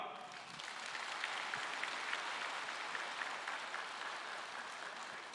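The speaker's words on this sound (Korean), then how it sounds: "우리 의장님께 큰 박수를 한번 부탁드립니다" Sustained applause from the audience at a Seoul regional meeting of the Korean advisory council on peaceful unification, a steady, fairly soft wash of clapping lasting several seconds without speech over it.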